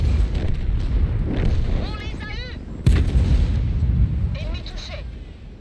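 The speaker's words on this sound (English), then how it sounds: "Artillery's probably gonna get us." Artillery fire in the tanks game World of Tanks: a sharp, loud boom near the middle cuts over a steady roar of engine and battle noise, with fainter whistling tones earlier and later and gamer chatter underneath.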